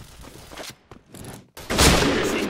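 Gunfire from the online shooter Point Blank, heard as short close bursts with gaps between them, then a louder sustained volley at the end.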